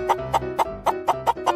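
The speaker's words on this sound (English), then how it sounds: "Chicken." A chicken in Fortnite clucks in a quick, evenly spaced series of about seven sharp, close clucks with no talking.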